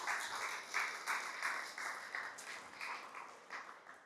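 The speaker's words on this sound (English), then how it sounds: "Let's give them a big round of applause." A church congregation claps for a departing couple at an Easter Sunday service, heard faint and somewhat distant, the pattering claps rising and falling in soft waves for a few seconds.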